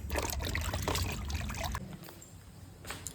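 Running water splashing while winter vegetables are washed, a continuous trickling and pouring that is louder at first and then settles into a thinner stream.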